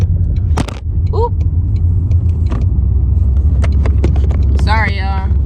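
A car turns a corner with a steady low road rumble, interior noise continuous throughout, a few brief clicks and a short chirpy tone over the engine drone.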